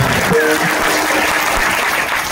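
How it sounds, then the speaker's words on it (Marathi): Audience applause at a Marathi kirtan during a Harinam Saptah gathering, a steady wash of many hands clapping that fills the whole stretch at a fairly loud, even level with no voices. "वाजवायच्या टाळ्या तर जोरात वाजवत नाही."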